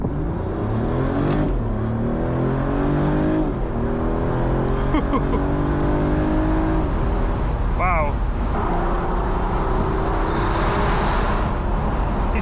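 A 2024 Mercedes CLE 450 Cabriolet with its six-cylinder engine pulls hard, rising engine notes climbing through gears beside steady road and wind rush, with someone talking over it.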